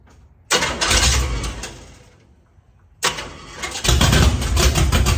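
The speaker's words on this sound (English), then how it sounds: "That starter really sounds bad." A vehicle engine cranks on a bad starter, with shot battery cables: two loud, close bursts of rough grinding separated by a short pause, the second running longer and building heavier near the end.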